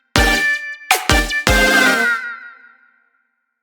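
Punchy drum hits from an electronic music production: three loud strikes in quick succession, the last ringing out with a long reverberant tail that fades over about a second and a half, with no voices.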